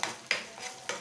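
Spices, chilli powder and turmeric, being stirred into eggs in a hot pan, giving a few soft scraping strokes over a light sizzle, close and alone.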